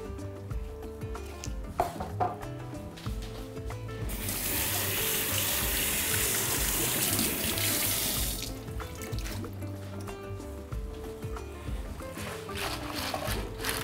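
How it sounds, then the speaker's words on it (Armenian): Cleaned spinach is rinsed under a running kitchen tap, a steady gush of water splashing into a sink for about four seconds, with dish clatter and handling sounds before and after. "Նախապես մաքրած սպանախը ջրի տակ ցայում ենք։"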